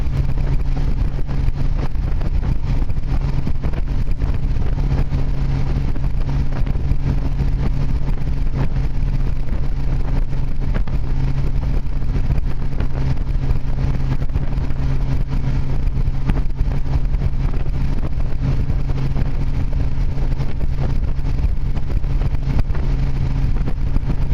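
A 1973 Triumph TR6 on a road test, recently fitted with upgraded Armstrong lever shock oil, gives a steady, loud engine drone mixed with road and wind rumble for the whole stretch, with no one talking.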